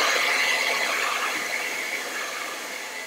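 A hair dryer blows a continuous airy whoosh over wet paint on a canvas, a close, steady rushing noise that slowly eases slightly in level, with no talking.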